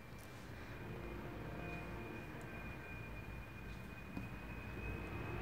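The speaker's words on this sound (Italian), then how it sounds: "Che belli i rumori di sottofondo. Che belli gli aerei." Airplanes flying low over a house give off a steady, even roar that fills the whole stretch at moderate loudness, with no voices over it.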